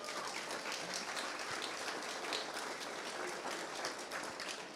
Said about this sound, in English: it's always a lady that steps up and starts the applause